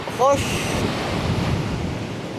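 Steady wind gusts buffeting the microphone on the Brittany coast near Locmariaquer, with waves and surf washing underneath, continuous and fairly loud throughout, with a brief faint high whistle near the start.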